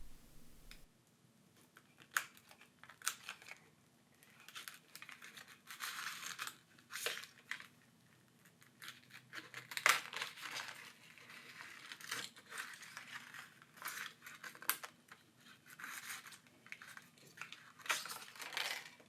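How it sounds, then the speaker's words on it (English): Plastic pry tool slicing through strong adhesive beneath the screen of a Samsung A03s phone, giving scattered close scraping, crinkling and tearing bursts with small clicks throughout, no talking. "you go under the screen, under the complete screen, with some plastic tool, and then you just cut around the glue"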